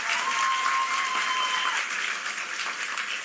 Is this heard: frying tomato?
no